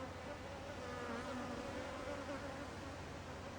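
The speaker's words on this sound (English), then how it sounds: "there's a bunch of bees here and I do not want to get stung" Steady, close buzzing of bees, continuous and fairly loud, with no voices.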